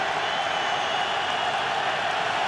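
Stadium crowd at a Giants home football game against the Cowboys, a steady, dense roar of many voices sustained throughout without breaks.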